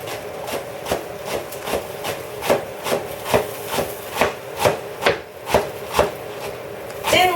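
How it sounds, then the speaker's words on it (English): A knife chiffonade-cutting rolled-up leaves on a cutting board, a quick, regular series of about a dozen crisp chops, close and clear, with no speech. "Thinly chiffonade it."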